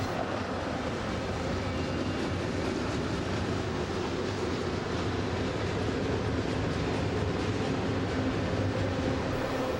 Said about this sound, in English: 3 Burlington Northern Santa Fe engines moving along the base of the San Gabriel Mountains